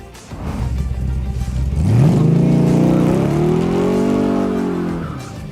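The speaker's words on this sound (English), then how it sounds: "Here at number 7, we have the 1963 Shelby Cobra 260." A 1963 Shelby Cobra 260 engine revs up from a low idle, its pitch climbing and holding in a loud, close rising whine before easing off, with no talk.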